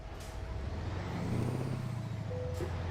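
A diesel truck in American Truck Simulator idles and rumbles while hooking up to a trailer, a low steady engine drone with a brief air hiss and a short tonal beep near the end, no voices.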